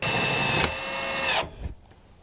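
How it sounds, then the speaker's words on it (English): A power driver whines loudly as a self-tapping screw bites into a galvanized sheet metal cylinder, runs steadily for over a second, then stops with a brief clatter. "we're gonna screw the cap to the cylinder"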